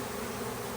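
Honeybees swarm during a hive rescue, a dense, steady buzz from many bees close by, continuous and fairly loud for under a second with no voices.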